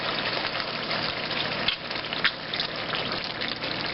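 Tomatoes squashed and cooking in a pot for mushroom gravy, giving a steady loud sizzle and bubbling hiss with a couple of stirring knocks, close up and without voices.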